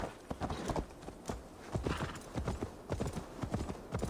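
A horse's hooves clop in fast, uneven rhythm in the video game Assassin's Creed Valhalla, close and steady over a faint background hum, with no voice over them.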